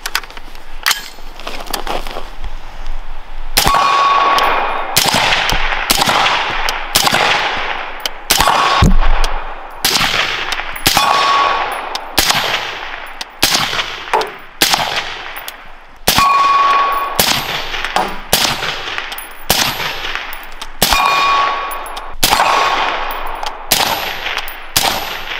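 Suppressed 5.56 rifle fire in a long series of sharp reports at irregular intervals, several shots followed by a bright ringing clang of rounds striking a steel target, loud and close with no talking.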